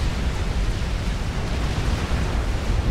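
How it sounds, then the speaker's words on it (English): A nuclear strike detonates in the real-time strategy game Supreme Commander: Forged Alliance, a dense, sustained roaring rumble of broadband noise heavy in the low end, steady and loud without distinct breaks. "The nuke hits, boom, and Umbra is taken out in the explosion"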